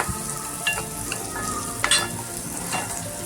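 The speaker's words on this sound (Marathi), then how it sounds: "आता हे मसाले सगळे आपण एकत्र करून घेऊया." Onion-garlic masala spices stirred together in a pan for a cauliflower-potato dish, giving a steady soft sizzle with scattered light scrapes and clinks, close and fairly quiet, with no talking.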